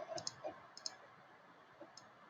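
Mouse clicks in design software while recoloring a shirt mock-up: a few crisp, faint clicks, some in quick pairs, spread across an otherwise quiet moment with no talking.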